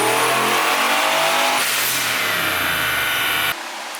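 A Triumph TR8 V8 engine revs hard on a dyno, its pitch climbing steadily, dropping briefly after a shift, then winding up again in a loud continuous pull before easing off at the end.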